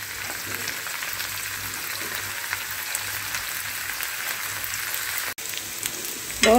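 Cucumber pieces cook in a pan for a chutney, giving a steady, close frying sizzle that holds at an even level throughout, with a short clatter near the end.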